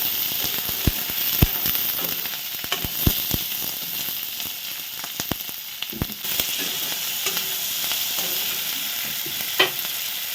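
Cumin, ginger, garlic and onion fry together in hot oil with a dense, continuous sizzle and sharp spitting pops scattered throughout.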